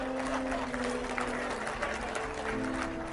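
Audience applause fills a lecture hall during a motivational leadership talk, a steady wash of clapping at moderate volume with a faint tonal hum running underneath.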